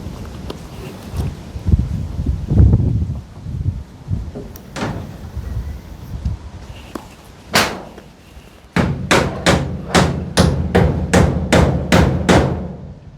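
Nails being hammered into wood during house construction, first scattered irregular knocks amid background bustle, then a close, loud run of about ten evenly spaced sharp strikes in quick rhythm.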